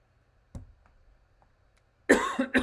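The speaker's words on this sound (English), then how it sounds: "Why am I coughing so much?" A single cough with a sharp onset stands out against quiet background, followed by a louder, longer burst of throat-clearing coughs near the mic, during a live hockey watch-party broadcast between the Boston Bruins and Tampa Bay Lightning.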